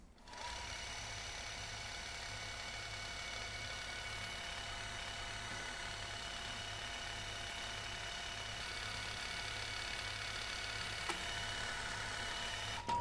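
An O.B. bobbin winder runs at a steady medium speed in constant mode, winding a bobbin with an even, continuous mechanical whir and hum throughout.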